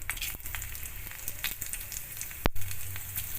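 Bay leaf, dried chili and cumin tempering in hot ghee: a steady close sizzle with a few sharp crackles and pops, one loud spit near the middle, no voices.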